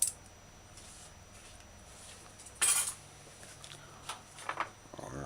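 A spoon stirs oyster sauce into a stir-fry sauce in a bowl, giving a few scattered light clinks and scrapes, with one sharper clatter midway, over quiet background hiss.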